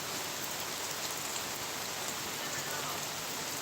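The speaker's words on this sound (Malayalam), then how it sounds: "ഉച്ച കഴിഞ്ഞപ്പോഴാണ് മഴ തുടങ്ങി" Steady rain falls continuously, a dense hiss of drops on surfaces without pause, fairly soft and even.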